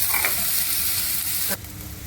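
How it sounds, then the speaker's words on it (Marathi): Ginger-garlic paste and onion sizzling in a pan for masoor amti, a steady close frying hiss with stirring that drops abruptly to a quieter simmer partway through. "अद्रक चांगलं परतल्यानंतर मी कांदा फिरवते।"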